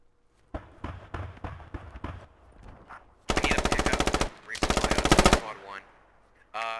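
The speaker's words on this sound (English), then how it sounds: "There's AK fire over here, guys." AK rifle fire in the Squad military game: a few separate shots, then two long loud automatic bursts of rapid cracks at close range, with brief voices in the gaps.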